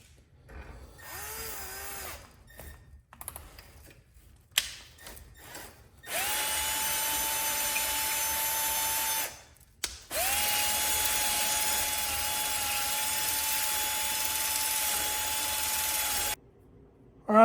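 A homemade sandpaper rig, likely driven by a drill, sands a pulley bore to fit a crankshaft for a cheap Chinese diesel swap into a Wheelhorse 314H tractor: two long, steady whining runs, each several seconds, after brief intermittent bursts.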